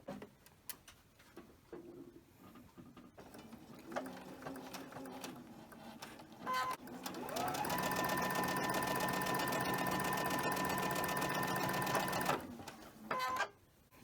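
A sewing machine stitches pieces of a quilt block, first in short bursts and then in a steady, close whirring run of about five seconds before stopping.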